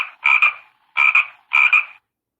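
A frog croaks three times in an even rhythm. Each call is a loud, close, double-pulsed rasp, with short silent gaps between them.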